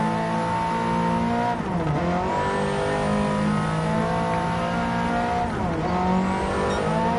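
A race car engine in Gran Turismo 7 drones loudly and steadily at high revs, dipping briefly twice as the driver shifts or brakes, then climbing again, with no talk over it.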